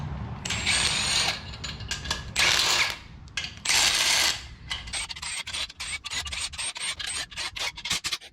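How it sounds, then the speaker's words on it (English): Ratcheting torque wrench tightening inner and outer bolts on a 6.2 short block assembly for an E82 drift build, loud close clicking and metallic rubbing in repeated bursts, with steady ratchet strokes between longer pulls. "now we need to go through our torque sequence, torquing all of the inner bolts and outer bolts to 15 foot-pounds"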